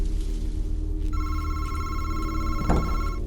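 A telephone in the horror game Madison rings with a bright, continuous bell-like tone beginning after a second, over a steady droning background and a sharp knock near the end.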